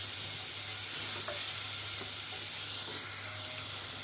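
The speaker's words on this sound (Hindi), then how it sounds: "टमाटर डालने के बाद हमने अच्छे से इसको भून लेना है।" Chopped tomatoes sizzle softly in a pot for aloo chicken curry, with a continuous frying hiss and occasional light scrapes of stirring, close and fairly quiet.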